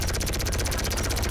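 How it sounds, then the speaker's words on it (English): Plasma cannon from GTA 5 Online firing in a rapid, steady stream of buzzing pulses, loud and continuous with no pauses throughout. "the last weapon that we have here is the plasma cannon"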